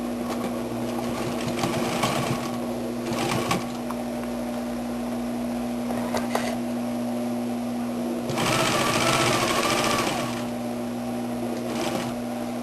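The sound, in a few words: sewing machine stitching a French seam on jeans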